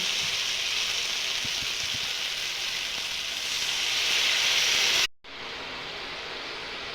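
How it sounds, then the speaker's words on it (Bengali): Masala for tel koi fish curry crackles in oil with a loud, steady hiss, then a splash of water goes in, briefly cutting the sound before a softer, even simmer continues. "মশলার থেকে তেল বার হয়ে গেছে, এখন দিয়ে দিব অল্প একটু করে জল।"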